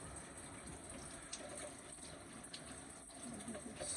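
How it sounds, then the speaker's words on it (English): Shower water runs steadily in a bathroom during a nighttime routine, a continuous close broadband splash and hiss with no speech. "we're going to hop in the shower and then I'll show you guys what I do"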